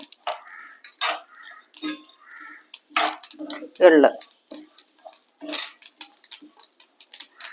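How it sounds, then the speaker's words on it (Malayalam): Sesame seeds dry-roast in a pan for moringa leaf powder, giving off scattered sharp pops and crackles at irregular intervals against near silence, with occasional talk. "ഇതിന് നന്നായിട്ട് എള്ളൊക്കെ പൊട്ടണ കണ്ടല്ലേ, നന്നായി വറുത്തെടുക്കാം"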